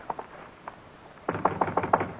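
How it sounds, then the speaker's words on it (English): Several raps on an office door at night: a couple of faint taps first, then a louder cluster of five or six quick, close knocks in an even rhythm, with no voices over them. "Should we knock? Should we go home? We'll knock."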